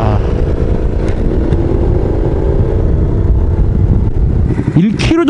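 A Kymco AK550 motorcycle engine roars loudly and steadily throughout, with a rough revving character and a brief rising rev near the end.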